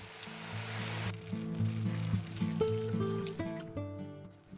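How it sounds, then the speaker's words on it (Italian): Water poured from two glasses into a pan of potatoes and savoy cabbage, a brief trickle followed by steady sizzling and bubbling close by, with faint clinks. "aggiungo le patate, la verza, verso 2 bicchieri d'acqua"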